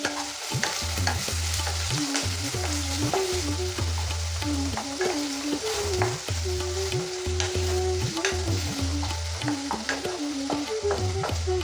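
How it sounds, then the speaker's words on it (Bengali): Chopped onions frying in a pan with a little salt, hissing and sizzling steadily throughout while a utensil scrapes and stirs them in repeated rhythmic strokes, close and loud with no talking. "এরপর আমি যে পেঁয়াজটা কুচিয়ে রেখেছিলাম সেটা আমি এর মধ্যে দিয়ে দেবো পেঁয়াজটা নরম হওয়ার জন্য"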